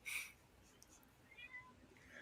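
A house cat gives a clear meow close by at the start, followed by fainter soft vocal sounds, with quiet background and no talking.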